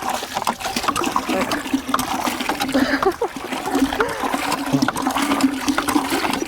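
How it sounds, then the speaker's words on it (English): Water gushing and splashing steadily from a well pump spout, running clear, with a continuous rushing flow and a brief voice murmuring under it. "That's clear water right there."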